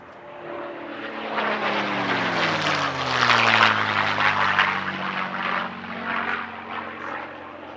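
A 1945 P-51 Mustang warbird flies a solo display at an air show, its propeller engine swelling from a distant drone to a loud, rasping pass overhead, then easing off with a falling pitch.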